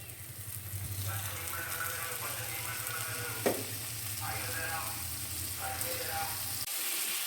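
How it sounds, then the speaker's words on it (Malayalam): Prawns sizzling in a pan as they fry for prawn biryani, a continuous close crackle with stirring scrapes and one sharp clink midway, the sizzle dropping away at the very end. "ഇനി നമുക്ക് പ്രോൺസ് ആഡ് ചെയ്ത് കൊടുക്കാം"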